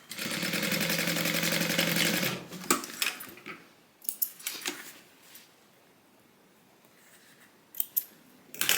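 A sewing machine stitches a divider bag in a fast, steady mechanical run for about two seconds, then stops. Soft rustling of fabric and light handling clicks follow, fairly quiet and close.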